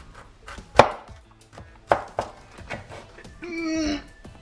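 A knife chops through a pineapple in a home kitchen with a few sharp, separate thunks against the board, spaced well apart, then a brief scraping or rustling sound near the end.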